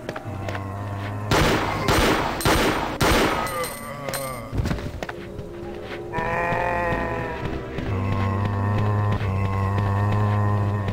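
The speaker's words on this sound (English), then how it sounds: "Man, the gunshot sounds great." Gunfire in the Resident Evil 2 Marvin's Hell mod, several loud sharp shots in a quick burst early on, then game music and ambient tones with sustained synth notes carrying on behind.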